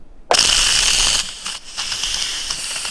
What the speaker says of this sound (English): We are good to release the rest of the pressure.